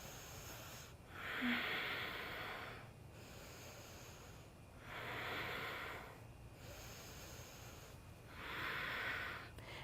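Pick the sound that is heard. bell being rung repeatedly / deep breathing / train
deep breathing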